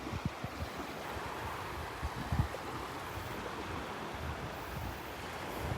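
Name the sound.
ocean waves on a beach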